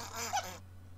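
A voice imitating snoring, a short nasal honking snort lasting about half a second, close and fairly loud, then quiet.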